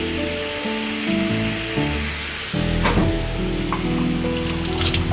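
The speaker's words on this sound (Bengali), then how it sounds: "লতিটা দিয়ে ভালোভাবে এবার নেড়ে দিবেন" Kochur loti (taro stolons) and shrimp frying in a pan as they are stirred, a steady loud sizzle with scraping turns of the spatula partway through, under a background music bed.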